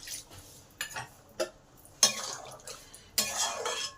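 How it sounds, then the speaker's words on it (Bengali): Prawns and potato pieces are stirred in a pan for a Bengali-style prawn posto curry, giving a run of separate metal scrapes and clinks with brief pauses between strokes, close by, with no voices. "এবার মাছগুলো আলুর সাথে ভালো করে নেড়ে নিলাম।"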